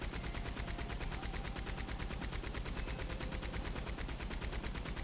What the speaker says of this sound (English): Not normally a Maxim gun kind of guy, but I don't mind it.